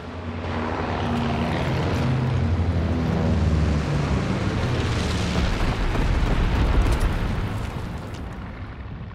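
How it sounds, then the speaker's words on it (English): Incendiary bombs in a WWII video game burst into a loud, sustained roaring rumble of explosions and fire, heavy low booms blending together across the whole stretch with no pauses. "Incendiary bombs incoming."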